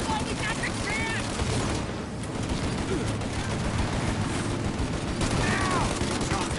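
Mounted gun fire during a shootout in Mafia Definitive Edition, a dense continuous barrage of rapid shots loud throughout, with voices shouting over it.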